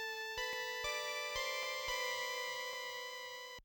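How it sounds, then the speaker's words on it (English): Sparkly Arturia Synclavier 5 synth on its Distant Shores preset, played dry, bright bell-like tones stepping through a melody of several notes over a shimmering sustained pad, close and steady, alone. "I used Arturia's Synclavier 5 from the Arturia synth collection again"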